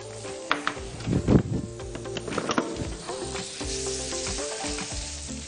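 A piece of butter sizzles and crackles in a hot pan for grilled beef fillet, a steady close frying hiss with louder spits and pops early on.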